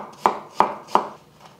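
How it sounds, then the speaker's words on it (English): Russian red garlic being chopped with a knife on a board: three sharp, evenly spaced chops close up, then a fainter fourth, each a crisp thud with a short tail, no voices. "it's too big to go into my garlic press too. So I'm just going to chop it up and throw it in."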